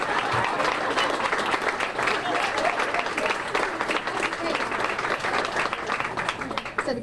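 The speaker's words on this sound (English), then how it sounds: "Another round of applause for Dale." A crowd at a restaurant store opening applauds a World War II veteran with loud, dense, sustained clapping that carries some cheering voices for about seven seconds.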